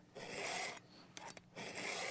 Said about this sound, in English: Sharpen all cutters on one side of the chain and then turn the saw or walk around to do the other side.